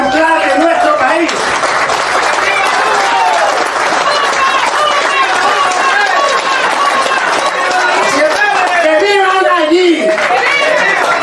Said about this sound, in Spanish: un aplauso a nuestro presidente ejemplar de nuestro país